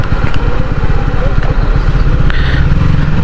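A Honda CBR motorcycle engine drones with a rapid throbbing pulse while riding along an open road, loud and close with wind rush over it.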